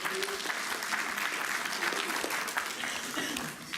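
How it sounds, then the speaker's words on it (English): Audience applause for two volunteers at a psychiatry lecture and psychic presentation, a dense, steady wash of many hands clapping at close range that holds for the whole stretch. "Please, a round of applause for both of"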